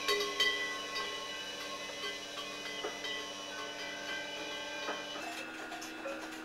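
A milking machine runs in a dairy barn where 126 dairy cows are milked, giving a steady mechanical hum with faint rhythmic ticking and hiss at moderate distance, with no voices.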